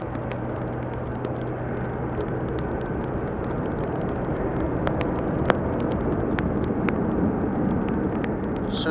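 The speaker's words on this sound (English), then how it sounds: "I am hearing an airplane spool up. It sounds like an E2 Embraer." Embraer E2 jet airliner spooling up its engines for takeoff further down the runway at Amsterdam Schiphol Airport, a steady broad distant roar holding throughout, with no talk.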